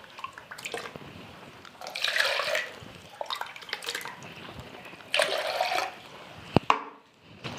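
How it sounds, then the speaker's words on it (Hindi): Water is poured out of a container of coco peat and refilled, coming in several splashing, gurgling bursts with quieter pauses between, plus a sharp knock near the end, close by and with no talk. "इसको हम पानी को फिर एक बार फिर फेंक देते हैं और फिर हम दूसरा इसमें फिर पानी लेते हैं"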